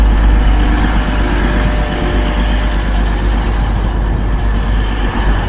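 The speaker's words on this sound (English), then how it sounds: "Legit never heard a train start up like a car before." Diesel train engine running in a UK town, a loud steady low rumble with constant engine drone throughout, close by and heavy in the low end, no voices over it.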